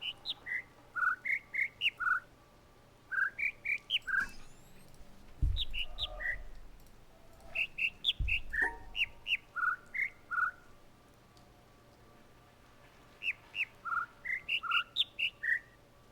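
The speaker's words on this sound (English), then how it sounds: "Stop doing 2 bird calls." Synthetic bird calls in the puzzle game The Witness, repeated groups of short high chirps and whistles in rhythmic bursts, with quiet gaps and a couple of low thuds in between, no talking.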